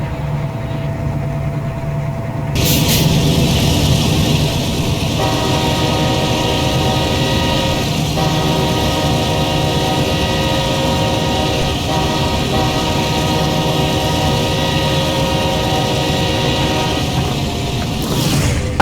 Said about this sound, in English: I do think the engine noise is very much too loud in comparison to any other noise whatsoever.